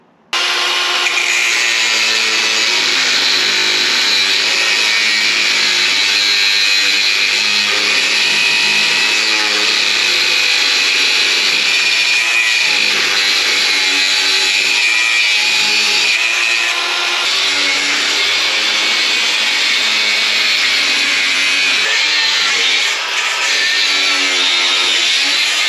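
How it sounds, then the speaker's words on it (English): Angle grinder cutting a guard off a Polaris RZR 900 XP side-by-side, a loud, close, steady high-pitched whine that runs unbroken for the whole stretch with no voices. "see if I can get the grinder a little bit closer to get it off"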